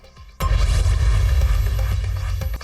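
A fireworks display at the end of a political rally sends out a sudden loud blast that rolls into a dense, sustained rumble of overlapping booms and crackles.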